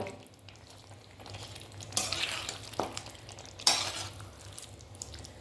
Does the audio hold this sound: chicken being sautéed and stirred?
yes